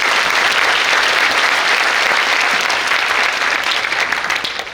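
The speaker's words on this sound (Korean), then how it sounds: "두 분께 다시 한번 큰 박수 부탁드리겠습니다" A large audience at a school talk concert claps loudly for two retired four-star generals. The applause is dense and continuous throughout and fades slightly toward the end.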